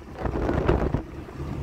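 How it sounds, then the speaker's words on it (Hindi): Wind rushes and gusts outdoors just before rain, a steady broadband roar buffeting the microphone, with no voices. "इधर बस अभी ना हवा चल रहा है"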